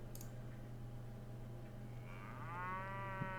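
In Mount & Blade, a single stolen cow lets out a drawn-out moo that rises near the end over a steady low background hum, with no speech.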